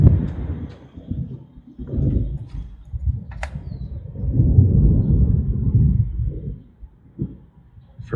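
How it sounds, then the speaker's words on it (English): Distant thunder rolling in low, uneven rumbles during a spring day outdoors, swelling twice over several seconds and fading between, with a faint bird call. "First thunder of the year."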